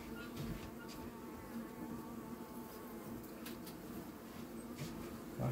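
A dense, steady hum of many honeybees buzzing close by around hive frames, continuous throughout, with occasional faint clicks and knocks.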